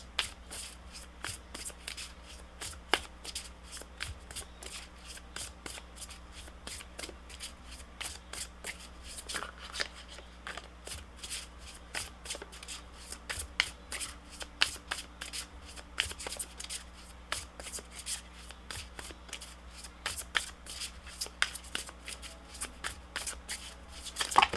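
A deck of tarot cards is shuffled continuously at close range, a dense rapid patter of card flicks and riffles running steadily throughout with no talk.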